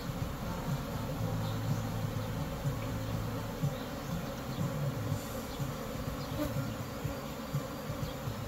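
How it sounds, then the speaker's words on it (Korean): A swarm of native Korean honeybees fills the air with a dense, continuous buzzing drone, close and steady for the whole stretch, with no speech. "토종벌 분봉 받고 있습니다."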